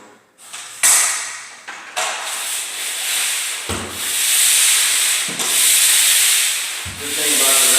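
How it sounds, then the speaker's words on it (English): A round orbital sander works over a painted wall between coats, sweeping in overlapping passes from top to bottom, giving a steady loud rubbing, sanding hiss that swells and dips as the pad moves, with no talk. "So you'll take and overlap half of the sand pad, just like I'm going to show you. All the way top to bottom."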